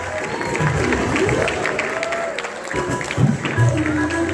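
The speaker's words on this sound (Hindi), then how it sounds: "जोरदार तालियां हो जाए इनके लिए" Audience applause for the chief guest at a school annual function at KV NTPC Dadri, a sustained wash of clapping from a large crowd with voices murmuring underneath.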